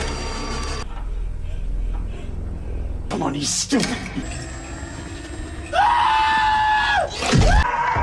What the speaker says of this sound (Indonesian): mendengarkan teriakan dari salah satu temannya